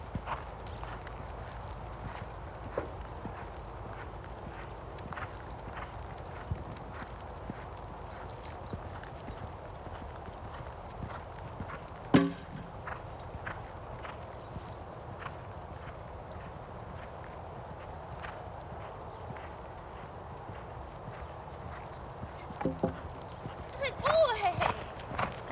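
A horse cantering over poles in a riding arena, its hoofbeats a steady muffled rhythm of soft thuds across the whole stretch, with a sharper knock midway and a rider speaking over it.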